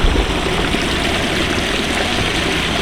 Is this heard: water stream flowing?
yes